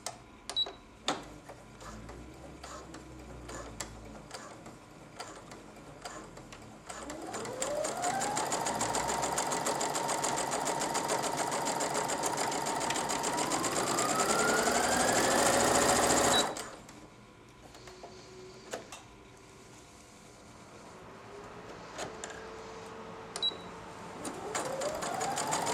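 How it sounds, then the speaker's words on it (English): A Brother Innovis-600 computerized sewing machine runs from its start-stop button, whirring up to a steady rapid stitching hum that holds for several seconds, then stops and gives a few shorter bursts of stitching with mechanical clicks. "We're going to use the machine without the foot control. And we're just going to use the start-stop button."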